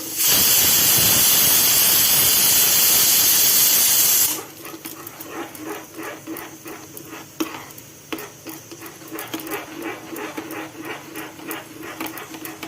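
Sugar caramelizing in a hot pan on a gas stove gives a loud, steady hiss for a few seconds, then drops to quieter, uneven bubbling and sizzling.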